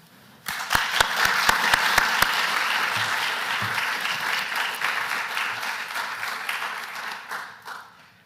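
Sustained applause from a lecture-hall audience welcoming a speaker at an endowed history lecture, opening with a few sharp individual claps before swelling into steady, dense clapping that fades out near the end.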